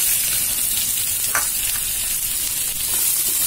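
Two medium onions, finely chopped, frying in a pan of oil after seeds have been sautéed, giving a continuous bright sizzle with a few small pops, close and steady, with no voices.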